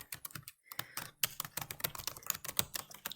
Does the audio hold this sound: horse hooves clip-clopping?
no